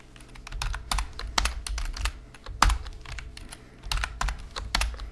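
Computer keyboard keys tapped out while entering an email address, in quick irregular bursts with short pauses, close and clear, no voices.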